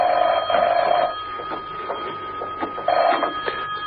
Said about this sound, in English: When he entered his apartment, the phone was ringing.